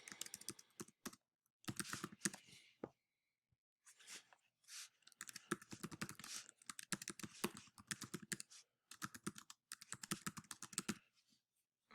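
A computer keyboard is typed on in quick bursts of crisp, close key clicks separated by short pauses, steady and fairly quiet with no talk over it.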